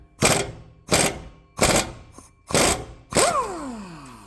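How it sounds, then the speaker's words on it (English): A pneumatic impact gun with a deep well socket spins a muffler nut off a 2013 Jeep Wrangler in five loud, close, evenly spaced hammering bursts. The final burst trails into a falling whine as the nut comes free. "Pretty easy with air gun."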